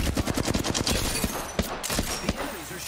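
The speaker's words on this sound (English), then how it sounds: "The enemies are shooting at me." Loud, rapid gunfire in the battle royale shooter Apex Legends, with fast automatic bursts and sharp single shots spread over a few seconds, sounding close and intense.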